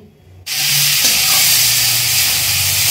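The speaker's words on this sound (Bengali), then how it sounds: "আগে মাংসটা ভাজবো" Chicken meat, seasoned with plain salt, hits hot oil with a sudden loud hiss that settles into a steady, bright sizzle.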